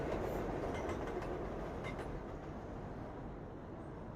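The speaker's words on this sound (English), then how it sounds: "we're going to have some subway noise to contend with here." A loud, continuous rumble of a passing subway train with rattling, clattering wheels and a faint metallic squeal, roaring steadily throughout.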